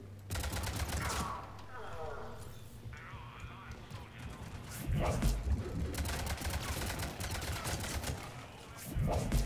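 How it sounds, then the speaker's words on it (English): Rapid shotgun blasts and bursts of gunfire in Mass Effect 3, loud sharp reports in quick clusters over continuous game action noise. "Shotgun, I'm assuming."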